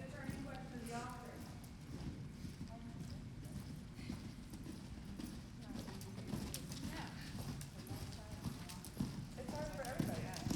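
Horse hooves clip-clop steadily across an arena during a show-jumping lesson, with voices murmuring faintly in the background throughout.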